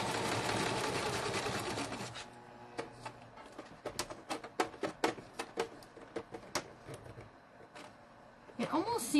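Sewing machine stitching a bee-themed junk journal, a dense mechanical whir at first that stops, then a run of short sharp stitch bursts and clicks as it starts and stalls, with more whirring at the end.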